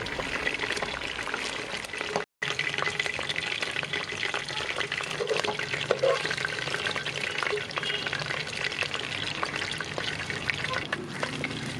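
Chicken pieces for Schezwan chicken fry in hot oil with a loud, continuous close-up sizzle and bubbling that runs throughout, cut by one brief silent gap, while a person talks over it.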